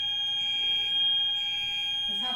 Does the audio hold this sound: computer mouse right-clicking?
no